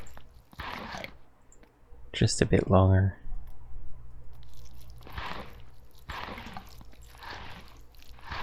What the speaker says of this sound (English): We just gotta put up the munch crunch sound.